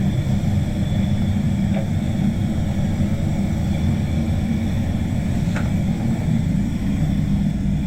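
A SATA spray gun lays PPG LVC 105 clearcoat on a car during a respray: a loud, steady hissing roar that holds unchanged from start to finish.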